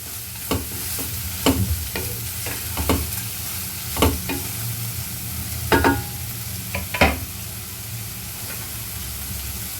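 Bitter gourd sautéing in a pan, a continuous low sizzle punctuated by repeated clacks and scrapes of a spatula stirring at an irregular pace, close by and with no voices.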